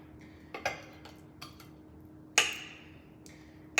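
A knife slices salad inside a bowl, making a few sharp, separate clicks and taps against the bowl with quiet gaps between them, close and clear with no talking.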